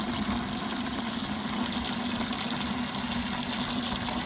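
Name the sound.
pouring antifreeze concentrate into a 1954 Case SC tractor radiator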